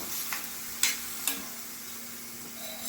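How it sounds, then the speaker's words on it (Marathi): Grated carrots being sautéed in a pan for gajar halwa give a faint, steady sizzle, with a few soft stirring scrapes and clinks standing out briefly over the low frying hiss. "त्याला परतून घ्यायचं छान गाजराला"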